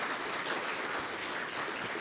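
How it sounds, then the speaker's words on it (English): An audience claps steadily as a dense, sustained round of applause, filling the whole stretch evenly with no voices rising above it. "Give Gerald a round of applause as well."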